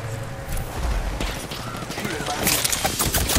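Video game gunfire rattles in quick bursts during a firefight, close and loud, with a voice speaking over the shots.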